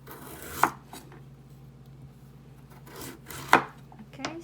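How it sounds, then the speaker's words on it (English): Knife cuts carrots into strips on a cutting board, with two distinct chopping knocks a few seconds apart and light scraping between them, close and moderately quiet. "I think I'm going to slice my carrots anyway"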